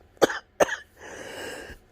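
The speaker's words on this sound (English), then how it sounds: "Right now, I'm starting to cough." A person with COVID-19 coughs while lying down: two sharp, harsh coughs followed by a wheezy, rasping breath, then another cough starting, close and clear with no talking.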